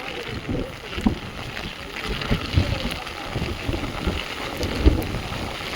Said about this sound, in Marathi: जोरात पाऊस आला, वारा खूप आहे इकडे.